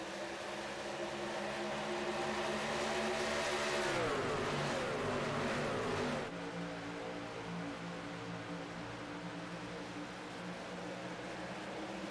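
Race trucks at Chicagoland Speedway in Joliet, Illinois roar past on a restart, a loud engine drone that swells into a rising, sweeping pass around the middle before settling back to a steady high-pitched hum.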